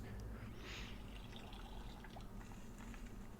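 Soft trickling and dripping water as a planted seed gets watered in a gardening video game, a faint, steady liquid sound without speech.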